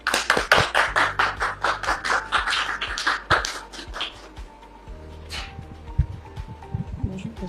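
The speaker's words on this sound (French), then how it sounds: "Recevons Dame Regina Birou sous vos applaudissements" Rhythmic hand clapping from a church audience welcoming Dame Regina Birou, loud and steady for about four seconds, then fading into scattered claps, a soft voice and background music.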